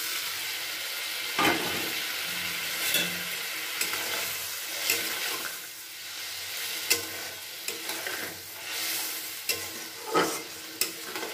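Pointed gourd (potol) pieces fry in a pan for a Bengali doi potol curry, a steady hiss of sizzling oil with intermittent scraping stirs and clinks of the spatula, close and continuous with no talk.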